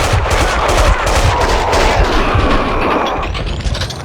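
Sustained automatic gunfire in the video game Max Payne 2, loud dense bursts of rapid shots rolling continuously for about four seconds with no pause, alone without talk.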